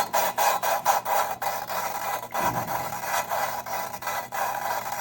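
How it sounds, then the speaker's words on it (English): A valve lapping tool rubs and scrapes an engine valve against its seat in a rhythmic back-and-forth rasp, repeated strokes close up with a brief tap in the middle. "I just take my valve lapping tool and then I give it a little pop to seat it"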